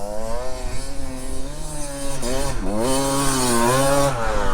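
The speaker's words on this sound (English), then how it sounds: "here comes the 2-stroke" A two-stroke engine revs hard near a beach, its buzzy, raspy note rising and falling in pitch as the throttle opens and eases, loud and close throughout.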